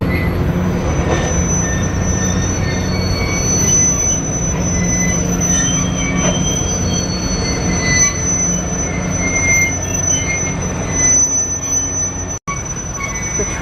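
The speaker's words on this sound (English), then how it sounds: "The train has come to an absolute crawl. It's probably, it's so long, it's going into the yard now, and that's probably why it's so slow." A very long freight train crawls slowly into a rail yard west of Jacksonville, Florida, its wheels letting out steady high-pitched squeals over a continuous low rumble of rolling cars, loud and close with no talking.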